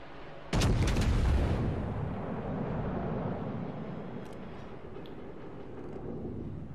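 Warship guns, apparently the battleship Nevada's, fire in a naval battle video game: one sudden heavy boom rolls into a long, loud rumbling tail that slowly fades, with no talking.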